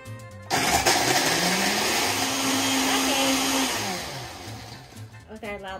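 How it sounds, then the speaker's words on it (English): A blender roars loudly for a few seconds blending a piña colada, its motor whining steadily before spinning down, with brief quieter moments at the start and end. "Okay, loud blender."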